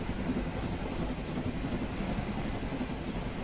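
A train in the video game The 39 Steps gives a continuous low rumbling drone with a faint rhythmic churn, steady and moderately loud, with no talking.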